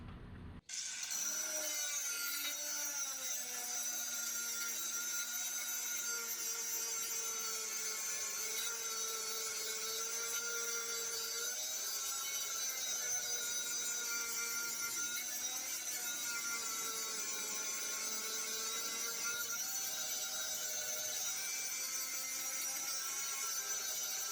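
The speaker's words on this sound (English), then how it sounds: "keep that in mind when you're sharpening the blade, that it's going to be really hot" A walk-behind lawn mower blade is sharpened against a grinding wheel, producing a continuous loud, close, high-pitched grinding whine with shifting tones as the metal is pressed and moved across the wheel throughout.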